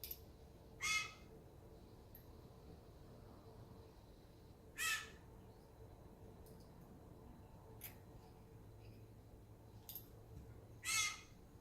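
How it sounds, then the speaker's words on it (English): A pet rescue bird lets out loud, harsh squawks at irregular intervals, four or five raspy bursts standing out from a quiet indoor background. "Mopar is my rescue bird."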